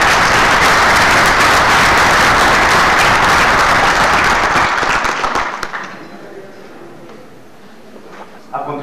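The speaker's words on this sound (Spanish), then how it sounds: "les pido un gran aplauso a los dos doctores" Audience applause at a book presentation, loud dense clapping with crowd noise that holds for about five seconds, then thins out and fades into quiet room sound with faint voices.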